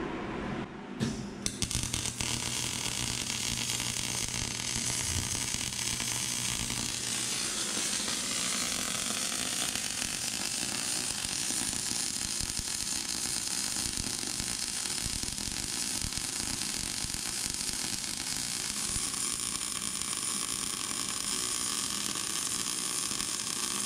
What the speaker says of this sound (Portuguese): Bora soldar.